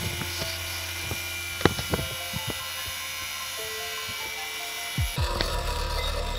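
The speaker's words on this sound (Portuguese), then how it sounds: "é apenas pegar na rebarbadora e cortar pelas linhas marcadas anteriormente" An angle grinder cuts along marked lines to shape a knife profile, its high steady whine running throughout with brief sharp scrapes and a louder surge near the end.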